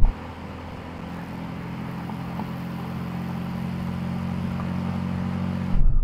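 Mercedes-AMG C63 accelerating hard in a race against a BMW M3 and Audi RS4, heard from inside as a steady, rising engine drone that builds gradually with a brief louder burst at the end.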